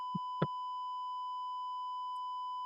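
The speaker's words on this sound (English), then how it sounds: "A shrill beep fills the room." An ECG machine in a room emits a continuous shrill flat-line beep, a steady pure tone held unbroken and loud, preceded by two brief soft knocks.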